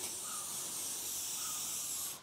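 A steady, close hiss of protective anti-rust aerosol spray on a motorcycle runs continuously for about two seconds, then tapers off at the end.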